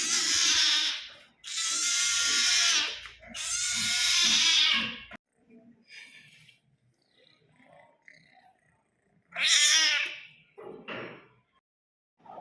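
A rescued kitten gives three long, loud, harsh cries close by, then a quiet stretch with faint shuffling, then two more strained calls of unusual tone.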